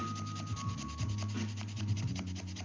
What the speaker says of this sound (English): we are gonna get back to the final hand sanding on this guy